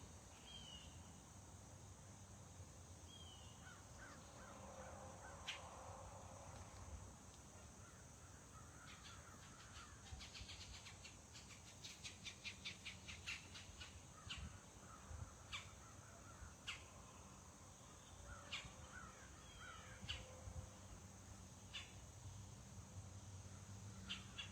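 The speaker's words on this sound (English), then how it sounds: "Oh, those are birds." Crows caw repeatedly at a distance outdoors, faint against a steady insect hum, with a run of rhythmic calls through the middle.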